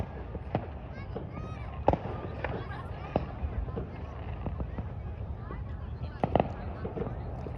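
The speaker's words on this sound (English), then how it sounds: "now I can hear more fireworks from all over North York" Fireworks burst across North York on Victoria Day, scattered distant pops and cracks at irregular intervals over an open outdoor hum, with a person talking throughout.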